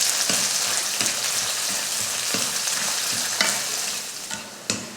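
Sliced onion, cinnamon, chillies and curry leaves sauté and sizzle in a hot pan for a mutton curry, a steady loud frying hiss broken by several sharp stirring scrapes; no one talks.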